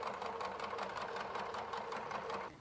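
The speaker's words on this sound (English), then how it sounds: "we're going to back stitch, and then we're going to start sewing." Sewing machine back stitching and then sewing a stocking, a steady rapid rattling hum heard up close, quieter and continuous, easing off at the very end, no talking.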